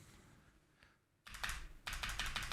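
Quick bursts of rapid key clatter on a SteelSeries Apex Pro Mini keyboard with stock switches, two close clicky runs following a faint quieter tap, near and crisp.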